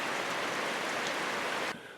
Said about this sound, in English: rain like this for a couple of days and the creeks won't even come up